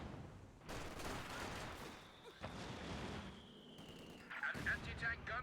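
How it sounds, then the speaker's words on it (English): Artillery and mortar fire in a Stalingrad-themed real-time strategy battle, with repeated heavy booms and bursts of gunfire layered over a steady combat din, moderately loud throughout and rising toward the end. "Nice shot from the mortar."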